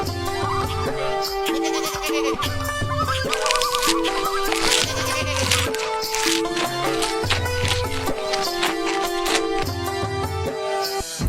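A cartoon goat bleats amid busy background music in a Hindi story, with short wavering cries that rise above the dense musical bed.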